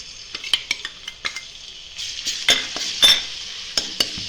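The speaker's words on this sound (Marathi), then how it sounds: "आता आपण हे ना अद्रक लसूणची पेस्ट आहे ना तेलामध्ये टाकू" Ginger garlic paste hitting hot oil in a wok, a moderate sizzle under sharp clinks and scrapes of a spoon against the metal, the hiss swelling midway while the taps keep an uneven rhythm.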